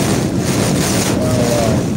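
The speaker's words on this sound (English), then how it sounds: "crosswind Hurricane Ian was hurling at us" Hurricane Ian's crosswind gusts in its back eyewall at Port Charlotte, a loud continuous roar of wind buffeting the microphone with a deep rumble throughout.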